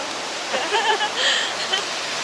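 Steady broadband rush of a waterfall at Chichkan, Kyrgyzstan, fills the whole clip, with faint voices murmuring briefly over the continuous roar.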